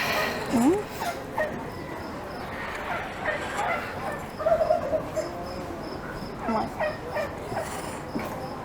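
Turkeys at a poultry show gobble and call amid a busy outdoor chorus of insects, with scattered bird sounds and soft background noise.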